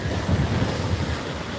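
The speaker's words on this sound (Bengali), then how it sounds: "সেই ভয়ঙ্করভাবে তেড়ে আসছে আজকে কলকাতার সমুদ্র সৈকতের ঢেউ" Heavy surf rolls onto Digha beach under strong wind, a loud, dense roar of waves and buffeting gusts across the microphone, with no speech.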